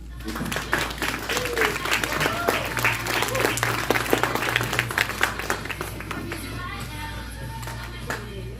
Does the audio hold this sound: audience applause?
yes